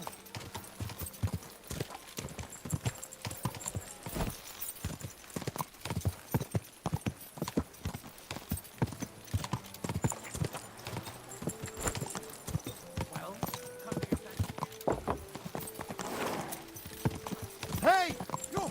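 Rapid hoofbeats of a galloping horse clatter continuously in Kingdom Come: Deliverance II, close and rhythmic, with a voice calling out over them and a short whinny near the end.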